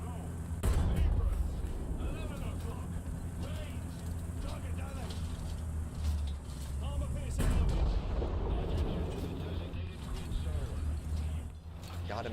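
Tank cannon fire in War Thunder, with heavy booming blasts landing over a constant low engine rumble through the battle. Sharp reports stand out near the start and again midway, and a voice talks now and then underneath.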